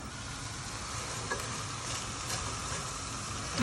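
Onions sizzling in butter in a pan on medium heat for French onion soup, a steady soft hiss and crackle, close and quiet, with no voices.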